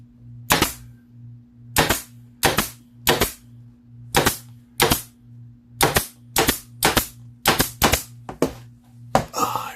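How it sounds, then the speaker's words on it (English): A staple gun fires staples into finish trim with about a dozen sharp, loud snaps at uneven intervals, close to the listener, over a steady low machine hum. "make sure you got staples in the gun"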